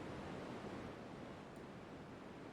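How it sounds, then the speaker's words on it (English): White noise from a video game's sound options plays as a steady, faint, even hiss with no breaks, like distant surf. "You can just listen to, like, white noise."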